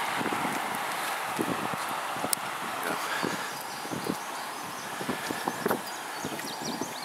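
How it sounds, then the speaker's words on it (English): Wind rushes and buffets steadily outdoors, with scattered faint clicks and taps throughout. "It's pretty windy."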